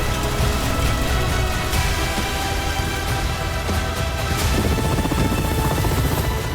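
A Russian Ka-52 attack helicopter throbs loudly and continuously, its rotor chop steady throughout, with a harsh broadband roar and no talk.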